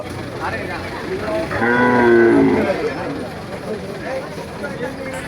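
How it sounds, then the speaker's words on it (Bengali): At a busy cattle market with animals unloaded from trucks, a cow lets out one long, loud moo lasting over a second amid crowd murmur and talk. "এই যে একটি গাড়ি ভরা আছে গরু"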